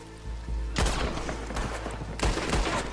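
Gunshots in the Western game Red Dead Redemption 2, heavy booming reports over a low rumbling backdrop, with a couple of loud blasts standing out amid scattered crackling shots at middling distance.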